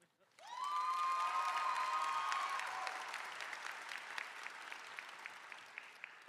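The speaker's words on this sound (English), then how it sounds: "I would also like to give another round of applause to Rohit, Sophia, and Savannah for their amazing speeches" A large audience applauds at a high school commencement ceremony in a performing arts hall, a sustained wash of clapping with cheers and a whoop at the start, gradually thinning to scattered claps, heard from a distance and fairly faint.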